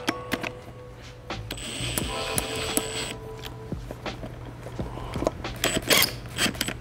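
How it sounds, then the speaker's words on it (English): Quick ratcheting clicks and mechanical rattles from a ratchet running in 10 mm bolts on a Coleman mini bike brake system, irregular bursts up close with small metal knocks between. "these bolts have a 10 mil head, so we're gonna go ahead and get those run in a hair"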